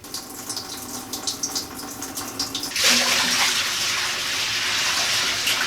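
Undrinkable homebrewed raspberry porter beer gushes loudly and steadily into a sink, a continuous rushing pour that follows a few seconds of softer trickling and splashing.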